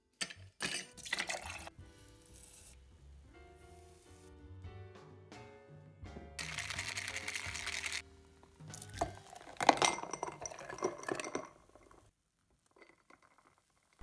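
Glass clinks and clatters while iced coffee is made in a home kitchen, with a run of sharp knocks and rattles, a burst of pouring or splashing, then scattered quieter clinks fading toward silence.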